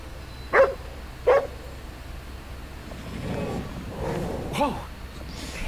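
Dog barking twice in the video game Ghostwire Tokyo, two sharp close barks, followed by softer whimpering and yipping sounds over a steady background hum.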